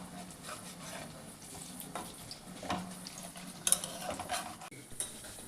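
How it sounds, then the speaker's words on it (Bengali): Spinach pakoras fry in hot oil with a steady, soft sizzle, broken by occasional scrapes and light utensil clinks as they are stirred and turned in the pan; no one speaks. "আমি পকোড়াগুলো তেলে দিয়ে দিছি"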